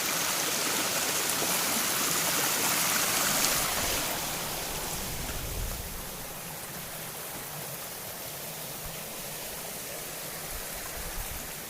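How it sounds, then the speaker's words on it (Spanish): Stream water runs downhill through open countryside in a steady, full rushing roar. It is louder at first and eases slightly as the listener moves along, with no voices over it. "Aquí sigue bajando el agua y aquí vamos a cruzar para ir allá arriba."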